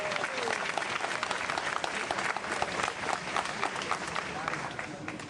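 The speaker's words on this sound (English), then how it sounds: "Give yourselves a hand." Rally crowd at a health care reform rally applauding, dense sustained clapping filling the space throughout, with faint voices mixed in.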